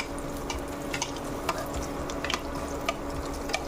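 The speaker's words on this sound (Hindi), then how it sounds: "इस तरह से हम पैन को हिलाएंगे कि तेल थोड़ा सा ऊपर की तरफ भी आ जाए।" Veg tikki shallow-fries in hot oil in a pan, giving a steady sizzling hiss with small crackles and pops. The pan is tilted now and then so the oil runs up the sides.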